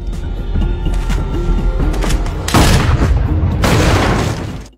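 Sniper rifle fire in a police action film scene: two loud, booming shot bursts stand out over a rumbling, tense background with faint voices.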